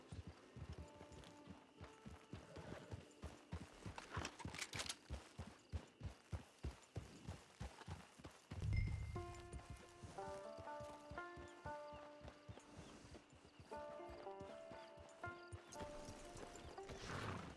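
Horse hooves clip-clop on the ground in Red Dead Redemption 2 Online, a steady rhythmic trot, followed by a brief snort or whinny and a soft melodic game music cue, with no talk.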